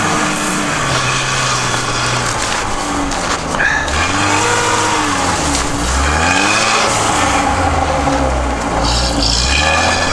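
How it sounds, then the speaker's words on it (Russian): A car fitted with mud-terrain tires pushes through deep snow, its engine droning loudly and rising and falling in pitch as the wheels spin and churn, with no talking. "Автомобиль стоит, выгребает снег хорошо."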